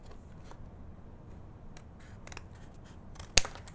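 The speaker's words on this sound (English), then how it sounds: "following along with the cut that I've already made with my scissors" Soft snips and rustles of scissors cutting paper close by, quiet and irregular, ending with one sharper, louder snip.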